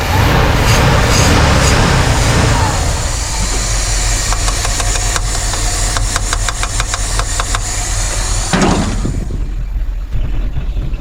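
An old Ford F350 pickup truck idles steadily at close range, a loud, continuous low rumble with a faint ticking knock running through it.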